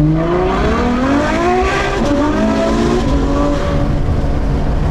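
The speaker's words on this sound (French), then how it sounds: "on entend les pneus qui cherchent de la traction là" A Ferrari F12 Berlinetta V12 engine drones loudly and steadily, its pitch rising and shifting, while tyres scrabble for grip beneath it.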